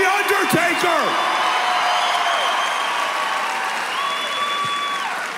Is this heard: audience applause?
yes